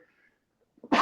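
A single sharp sneeze bursts out at the very end, loud and close, after near silence.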